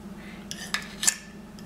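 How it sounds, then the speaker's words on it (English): A fork and spoon mash and stir Oreo truffle mixture in a bowl, giving a few soft metallic clinks and scrapes over a quiet background, close and brief. "I will use the fork to mash it, the spoon to stir it"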